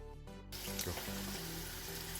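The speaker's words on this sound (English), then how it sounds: "My 4 cups of long grain rice is washed." Long grain rice rinsed under running tap water for jambalaya, a steady close splashing and trickling rush that starts abruptly and continues without talk.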